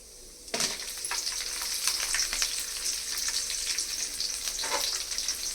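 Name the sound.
green chillies frying in oil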